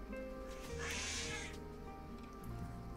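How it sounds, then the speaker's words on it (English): A pet cat screeching in a drawn-out, harsh wail that rises and fades within a second or so, heard faintly over a quiet background. "Yeah, I know you're screeching at me."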